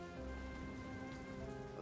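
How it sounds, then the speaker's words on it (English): Steady rain patters on city pavement in World of Goo 2, a dense, even hiss of droplets with no pauses, moderately loud and heard alone. "The rhythm of droplets on the pavement echoes through the city's desolate alleyways."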